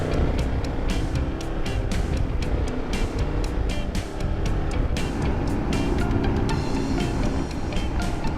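Steady road traffic rushes past a moving motorcycle in hot weather, a continuous loud wind-and-tire roar with repeated brief swells as vehicles go by close alongside.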